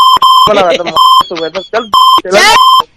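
A telephone rings loudly in repeated electronic tones on a Hindi radio prank call show, alternating with bursts of talk between the rings.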